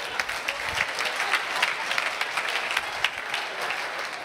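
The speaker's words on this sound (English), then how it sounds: "Give yourself a big round of applause." Participants at a live motivational seminar clap in a brisk, sustained round of applause at moderate volume, with no talking over it.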